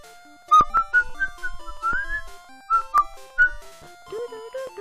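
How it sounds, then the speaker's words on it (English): A person whistles a bouncy tune close to the microphone in short, loud, piercing notes with brief gaps. "Sorry if I burst anybody's eardrums with my whistling."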